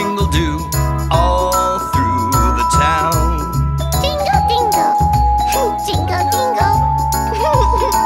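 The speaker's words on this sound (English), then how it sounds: "Chimes go jingle, dingle, doo, jingle, dingle." Ice cream truck chimes jingle through a children's nursery rhyme song, bright tinkling tones over a steady bouncy bass and singing melody, loud and continuous throughout.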